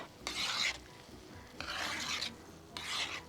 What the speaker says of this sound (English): Stir them in to warm up.